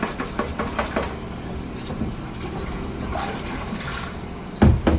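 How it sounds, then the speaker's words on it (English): Water filling and circulating in a plant nutrient reservoir, a steady rushing, gurgling wash with faint knocks, ending in a sharper splash or bump near the end. "remember this thing is still filling, so the water is somewhat circulating in there"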